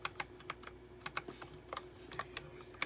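Keys clack in quick, irregular bursts on a DIERYA T68SE compact 60% mechanical keyboard with round switches, crisp close-up strokes over a quiet background.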